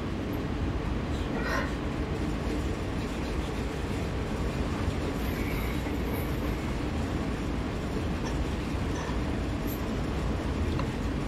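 Train rolling along rails in Train Sim World, a steady close rumble with continuous wheel and track noise, unbroken throughout and with no talking.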